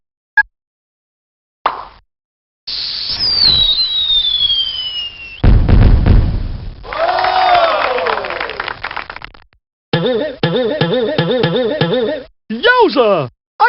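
Cartoonish firework effects from the educational game Mighty Math Number Heroes: a rising whistle, a bright burst with crackle, then a string of chiming, sparkly bursts and short whooshes, loud and close.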